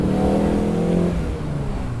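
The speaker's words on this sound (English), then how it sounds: "It's all the induction, the sound of the engine breathing." A 1996 Alfa Romeo 916 Spider with a 2-litre engine accelerates, its induction noise a loud, close, rising intake roar that eases off toward the end.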